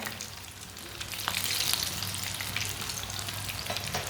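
Green chili pakoras fry in hot oil over a low flame, giving a steady, close bubbling sizzle with a few faint clinks and no talking.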